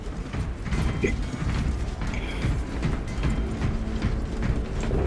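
A cargo elevator platform in a video game grinds and creaks steadily as its mechanism moves, a continuous rattling clank with faint metallic ticks and no break throughout.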